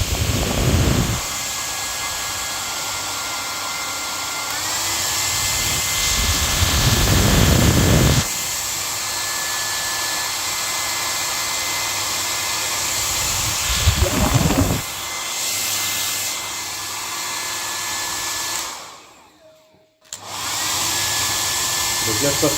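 An AIUNAOM 2400W ionic hair dryer running on its first speed, a close, continuous airy whoosh with a few louder bursts and shifts in pitch, then a brief drop to near silence before it resumes.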